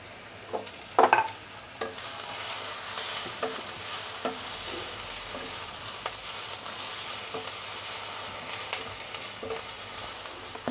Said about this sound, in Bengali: চেরা কাঁচা লঙ্কাগুলো দিয়ে দেব।